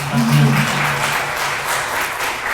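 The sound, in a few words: audience applause for INKA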